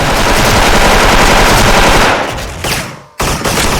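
Automatic fire from a DISCO M4A1 rifle in the online shooter Special Force, a loud sustained burst that cuts off abruptly, followed by a short gap and another brief rattle of shots.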